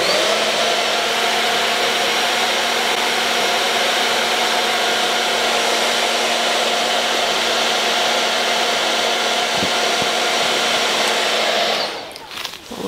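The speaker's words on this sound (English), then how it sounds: "What I do is I turn it on hot, but then I press the cool button whenever my scalp starts to get too hot." Hygo hair-drying cap blowing on its hot setting, a steady loud airflow whoosh with a constant motor hum that holds evenly for about twelve seconds, then cuts off abruptly near the end.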